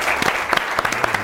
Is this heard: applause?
yes